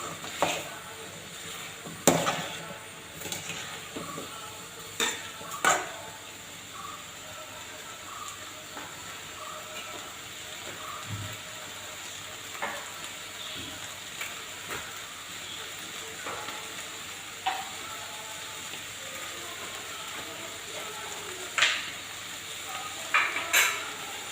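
Crushed chili being stirred in a frying pan while making a Kerala koorka stir-fry, with a soft background hiss and scattered scraping knocks of the spoon, a few sharper clatters, no talking.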